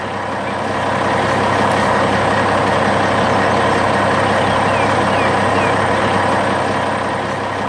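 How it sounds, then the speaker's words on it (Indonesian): Animated truck driving through a quiet forest on its way to work, heard as a continuous loud engine roar and rumble, steady and close, with no talking. "Wah, truk itu pasti sedang terburu-buru mau pergi piknik di tengah hutan ya."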